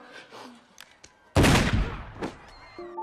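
A single loud, sharp gunshot bursts out in a tense film scene, ringing off into a decaying tail, with quieter scuffles and faint sounds before it.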